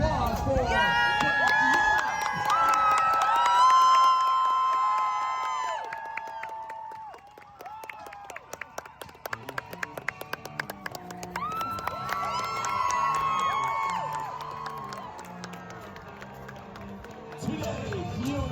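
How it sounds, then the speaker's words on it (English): A crowd at a medieval faire in Toronto applauding and cheering for a jouster, scattered clapping and shouts beneath an announcer's amplified voice, moderately loud and spread across the audience. "How about a nice round of applause for"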